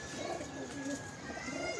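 Pigeons cooing softly in a pigeon club loft, a faint low repeated coo under steady background hiss.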